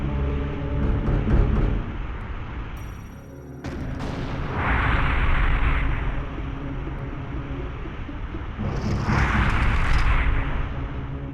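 A gas explosion in the video game Soul Reaver blows a hole in a wall, a loud sustained rumbling roar with heavy low booms and bursts of hissing debris, repeated twice.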